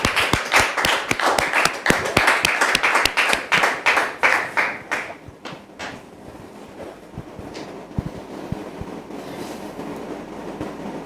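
Loud applause from a church congregation, dense rapid clapping that fills the space for about five seconds, then thins out to scattered claps over a low murmuring room.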